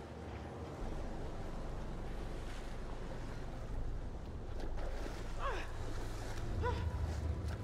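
Steady wash of water and waves lapping around a boat as the water rises in a video game, with a voice briefly heard near the end.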